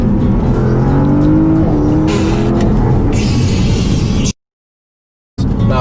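A car engine revs hard and accelerates in Sport Plus mode to overtake, loud and close, the roar building for several seconds before cutting out briefly and resuming.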